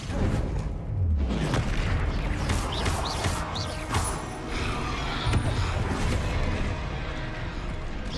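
Confringo blasting-spell explosions in the Hogwarts Legacy video game: heavy booming blasts layered into a dense, continuous wash of loud game sound that never drops out.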